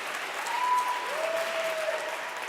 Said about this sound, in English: I'll wait for the applause.